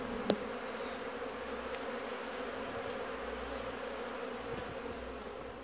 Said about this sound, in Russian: Пчелы совсем не реагируют на меня.